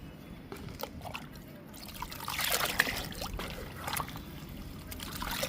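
Liquid fertilizer pours onto fruit plants and moringa plants in a home garden, making a steady trickling and splashing that swells in the middle.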